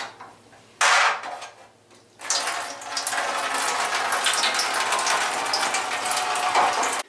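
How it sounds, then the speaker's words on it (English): Adjustable pliers loosen the plastic nut under a Korky toilet fill valve, a burst of scraping and ratcheting, a pause, then sustained gritty mechanical grinding and clicking with a watery edge, close and fairly loud. "Now I'm going to loosen the nut underneath the fill valve"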